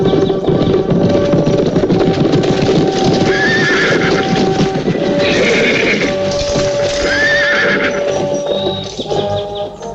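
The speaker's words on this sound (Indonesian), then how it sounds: "ada 10 orang naik kuda sedang menuju kemari" A group of ten mounted riders approaches, with loud hoof clip-clops, repeated sharp whinnying and neighing from several horses, all close and busy with no talk.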